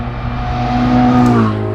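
A turbocharged Ferrari 488 GTB engine revs loudly and close, its pitch rising through a strong throaty drone before easing back down.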